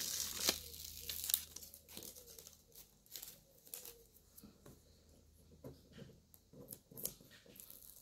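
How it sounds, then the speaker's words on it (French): Printed paper labels, cut with a Cricut Maker, are peeled away from the surrounding sheet in close, quiet bursts of tearing and crinkling with short pauses between pulls. "je viens décoller le tour du papier"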